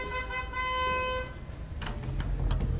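Car horns honk on a narrow, busy Gangnam side street, with a long steady toot first, then several shorter blasts over loud street and engine noise.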